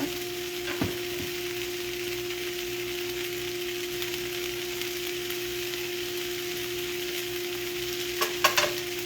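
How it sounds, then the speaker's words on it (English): Peppers and onions fry in olive oil in a pan, giving a steady, even sizzle throughout, broken by a utensil clink early on and a brief cluster of taps near the end. "Get to stir your peppers and your onions."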